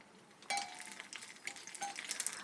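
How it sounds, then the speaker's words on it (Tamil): Pani puri fry in hot oil with a crackling sizzle that jumps up suddenly and continues in bright bursts, along with a few light metallic clinks from stirring, close and without speech. "ஆயிலை இந்த பானிபூரியில் நல்லா தெளித்து விட்டுட்டே இருக்கணும்."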